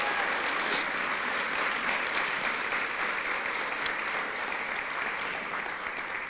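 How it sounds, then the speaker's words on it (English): Audience applause at a guide dog class graduation, a steady, even wash of many hands clapping that holds for several seconds at moderate loudness and has no talk over it. "How about a big round of applause for all the sponsors?"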